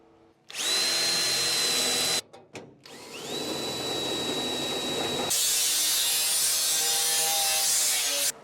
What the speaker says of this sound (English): I'll get a drill through these holes and get some riv nuts in